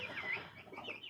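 Hens in a backyard coop on a windy autumn morning, soft clucks and murmurs running continuously at moderate closeness with no voices.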